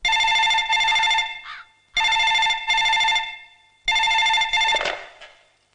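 A telephone rings close by in three evenly spaced bursts, each a bright electronic double trill with no voices.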